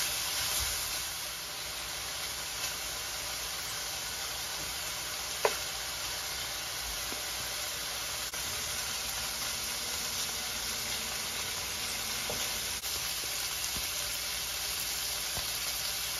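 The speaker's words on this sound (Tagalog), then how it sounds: "Sunod yan, lagyan natin yung coconut milk." Squash, string beans and pork simmer and sizzle in a pot as coconut milk goes in, a soft steady hiss with faint clinks, no voices.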